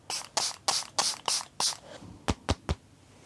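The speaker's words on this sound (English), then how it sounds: "I'm just making sure that it is water, not rubbing alcohol" A spray bottle is pumped repeatedly nearby, six soft hissing mists in a steady rhythm followed by three shorter, sharper spritzes.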